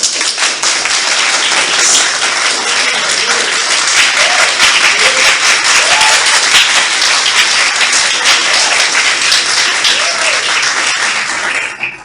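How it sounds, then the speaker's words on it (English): A crowd at a political speech claps loudly and steadily for about twelve seconds in a dense, even wash of applause that stops abruptly at the end. "Let's give a round of applause to the incoming First Lady."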